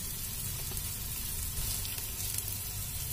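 Spices and gram flour sizzling in a hot pan for masala chila, a steady close frying hiss that continues evenly without a break.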